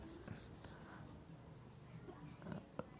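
Chalk or marker scraping across a board in short strokes, faint and close in a quiet room, with a few small taps between strokes.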